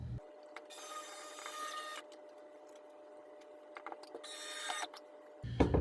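Screws are driven into a wooden coffee table base by a power driver, two bursts of high whirring motor noise, each about a second long, separated by quieter handling and clicks, close and fairly faint.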